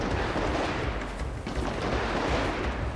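Gunfire in the video game GTA 5, a continuous dense barrage of shots crackling through a shootout in front of a favela, loud and sustained with no pause for the full stretch.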